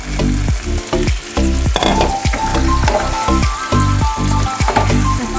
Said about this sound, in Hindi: उसके बाद मटन ऐड करती हूँ। अभी मटन ऐड करना है।